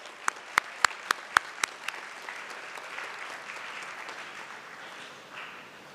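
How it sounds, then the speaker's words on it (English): A banquet crowd at a university academic and athletics awards dinner applauds a baseball coach, opening with several loud, separate nearby claps before settling into a softer, continuous spread of clapping that tapers off. "Let's give him a round of applause."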